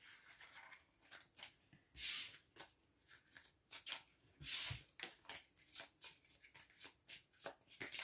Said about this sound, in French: remélanger les cartes